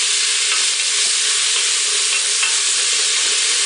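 About one and a half chopped medium onions frying in a pot give a loud, steady, bright sizzle that holds evenly without pause, with faint occasional crackles.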